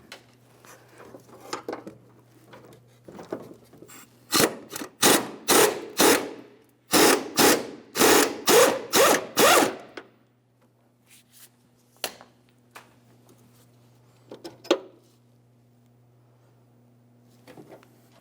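Power tool with a 21mm socket removing an upper control arm bolt on a 2002–2009 Chevrolet Trailblazer, running in a rapid series of loud, close, rattling bursts, then a few softer clicks and taps.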